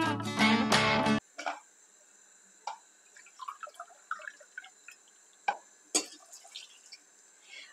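Water pours onto granulated sugar in a pot for syrup. A brief heavy splashing pour opens, then scattered drips, trickles and small clinks follow, close and quiet, with no talking.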